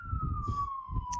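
An emergency vehicle siren in Los Angeles holds a steady, slowly falling wail at moderate distance, running continuously beneath low murmuring voices and background rumble.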